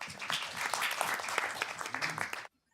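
An audience at an international university development conference gives a warm round of applause, a dense, loud wash of clapping that stops abruptly at the end.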